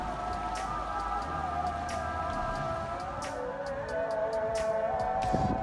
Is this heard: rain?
yes